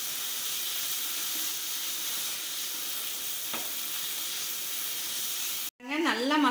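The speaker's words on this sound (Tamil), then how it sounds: "இப்போ வந்து நம்ம வறுத்தெடுத்து வச்சிருக்கிற உருளைக்கிழங்கு இதல சேர்த்துக்கலாம் சேர்த்துட்டு திரும்பவும் நல்லா mix பண்ணிரலாம்" Fried potatoes stirred into masala for masala potato rice, giving a steady loud sizzle and hiss from the pan with a brief clink. It cuts off abruptly near the end, and a voice begins speaking.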